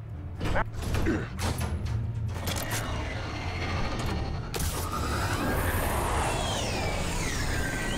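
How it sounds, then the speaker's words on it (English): Doors opening in Batman: The Telltale Series, a mechanical creaking and ratcheting of gears that swells and sustains, with heavy machinery grinding on under a low rumble. "I'm opening the doors."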